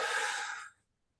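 A single deep, breathy exhale during a slow hamstring and lower-back stretch, close and soft, fading out after under a second into silence.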